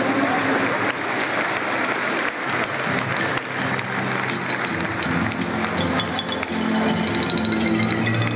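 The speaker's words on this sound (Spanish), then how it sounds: "Recibámoslos con fuertes aplausos." Loud applause for the municipal mayor at the opening of the 2018 fiestas patrias, a sustained crowd ovation with a low droning undertone and occasional clinks and thumps.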